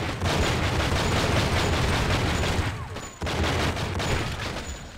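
Gunfire in the video game True Crime: Streets of LA, a dense, loud, continuous barrage of shots that breaks off for a moment near the end and then resumes.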